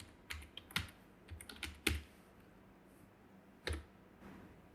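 Fast bursts of keystrokes clatter on a computer keyboard as a command is typed into a command prompt, with clustered clicks and brief pauses, close and fairly quiet with no talking.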